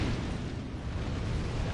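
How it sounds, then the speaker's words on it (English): An explosion in the video game Dark Souls 2, heard as a dense, roaring burst of broad noise that stays loud and sustained for about two seconds without a distinct start or end. "Explosion."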